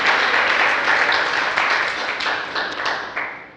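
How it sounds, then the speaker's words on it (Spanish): Church congregation giving a strong round of applause during a Spanish-language worship service; dense clapping starts loud, then gradually fades with a few distinct claps toward the end. "dale un aplauso fuerte, fuerte a Dios"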